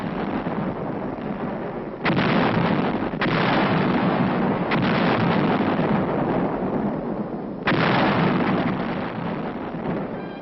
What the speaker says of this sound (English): Our 155's blast evacuated Uijeonbu.